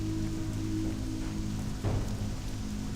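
Rain falls in the World of Warcraft game world as a steady, soft patter. It holds evenly throughout, with a faint low rumble near the middle.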